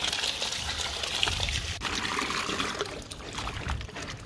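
Small plant roots are rinsed by hand in water, with steady splashing, trickling and pouring at close range, continuous and fairly loud with occasional sharper splashes and no speech.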